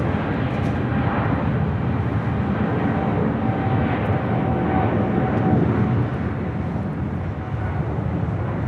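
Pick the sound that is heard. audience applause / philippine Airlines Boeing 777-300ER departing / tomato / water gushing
philippine Airlines Boeing 777-300ER departing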